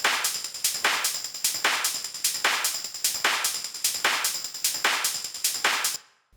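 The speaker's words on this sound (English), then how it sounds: "So here's what the drum tops group sounds like." Hard techno drum tops loop of shaker, hi-hat and claps, a bright, hissy layer pulsing in a steady driving rhythm with accented hits about every third of a second, played alone and close, then cutting off abruptly.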